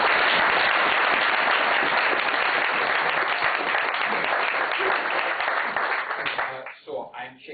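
Dense applause from a lecture audience welcoming Professor Lankov, a full crowd clapping loudly and steadily before tapering into scattered claps at the end.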